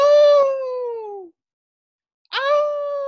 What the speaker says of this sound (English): Something terrible howls in the dark.